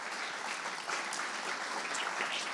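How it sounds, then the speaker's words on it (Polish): Audience applause after a conversation with pianist Leszek Możdżer, a dense, steady wash of many hands clapping at moderate level, continuous without pause and free of talk. "wielkie brawa"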